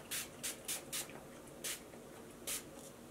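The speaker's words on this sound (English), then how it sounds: "So I'm just gonna spritz it lightly." A Mario Badescu facial spray spritzed lightly onto skin: six short, soft, hissing mist bursts in an uneven rhythm, close and quiet, with no talking.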